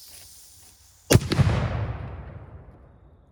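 A cannon loaded with washing machine parts fires at ballistics gel: one sharp, loud blast followed by a booming roar that slowly decays and echoes away over a couple of seconds, with no talking.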